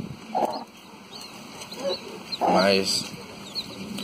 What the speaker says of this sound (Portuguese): Vamos tirar aqui, ó. Os pintinhos, ó.